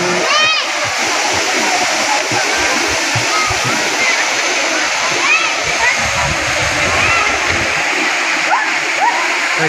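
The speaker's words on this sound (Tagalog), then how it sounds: "here at Bulinaw Falls." Bulinaw Falls in Pangasinan pours with a steady, close, full roar while swimmers splash and voices, including children's, rise above the rushing water.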